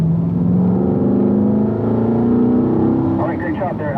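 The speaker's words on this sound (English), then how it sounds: "increase your brake pressure, get down a gear, and then roll off the brake as you steer the car in" A car on a race track is heard from inside. A loud engine drone rises and falls steadily, then the revs shift near the end as it brakes and drops a gear. An instructor's voice talks over the engine.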